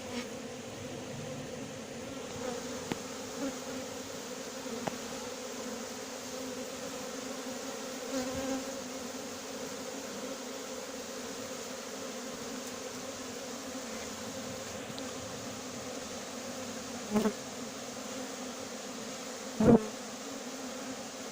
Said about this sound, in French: Il n'y a plus d'abeilles en bas, pratiquement il n'y a que en haut.